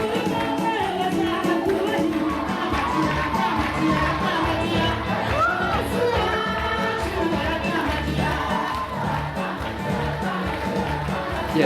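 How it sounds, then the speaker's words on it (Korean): Worshippers sing praise together, loud and sustained, with clapping as they dance. A full crowd of voices carries a continuous melody, with cheers mixed in. "남자들도 저렇게 손뼉치며 춤추며 찬양합니다."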